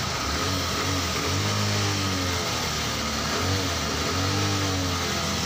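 A stock Honda CB125 motorcycle, freshly cleaned carburetor and old spark plug, runs on its own at a steady idle, a loud close-up putter with low harmonic pulses swelling in slow waves, no talk over it.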